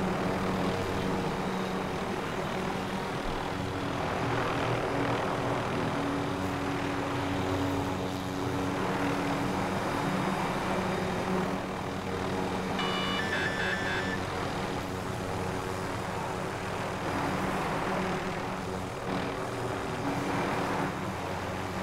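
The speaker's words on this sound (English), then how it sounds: "Oh, you're riding the chopper." A helicopter flies in Call of Duty Modern Warfare, a steady, droning rotor and engine hum that holds for the whole stretch, with occasional faint game beeps and no talk.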